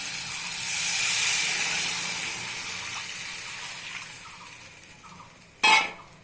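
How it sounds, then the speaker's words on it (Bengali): Water is poured into a pan of hot oil and spices for a Bengali boroli fish curry, giving a broad sizzling hiss that swells then fades, ending with a sharp louder splash-burst near the finish. "এখন আমি জল দিয়ে দিব, পুরো তেল ছেড়ে দিয়েছে মশলা দিয়ে।"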